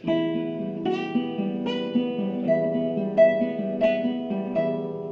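A clean guitar picks out a simple melody, note by note, with ringing sustained tones and an even rhythm, solo and close.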